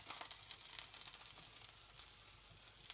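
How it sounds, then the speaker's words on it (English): A sandwich fries in a waffle maker grill, buttered on one side and oiled with olive oil on the other, giving a steady, soft crackling sizzle that runs nearly unbroken, with no one talking. "Just to enjoy the sizzling sound and the fragrance."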